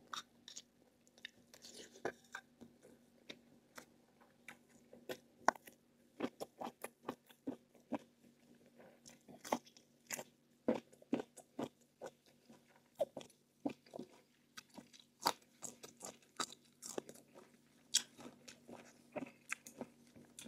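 Close, wet chewing and biting into large, dense chunks of meat, with irregular crunchy bites and smacking that repeat throughout, loud and near, with no talking.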